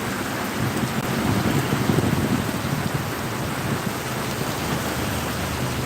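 Heavy rain pouring during a storm with thunder in Phulpur, a dense, loud, steady roar of rainfall with low rumbling swells, no one speaking.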